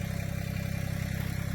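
A tractor idles at a stump-clearing spot, giving a steady, close, low throbbing hum with an even pulsing rhythm and no other sounds.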